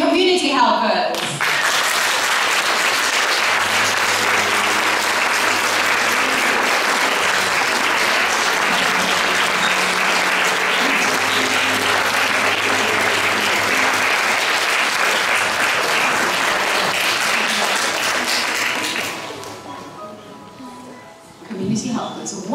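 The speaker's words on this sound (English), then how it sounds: "Ladies and gentlemen, a round of applause for the Benjamin Community Helpers." Sustained applause from a large audience at a graduation performance, dense and loud for most of the stretch, with a low musical tone underneath, before fading out as a voice returns near the end.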